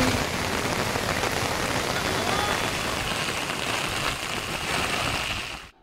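Heavy monsoon rain pours steadily in a dense, loud, continuous roar of water hitting surfaces that barely changes throughout.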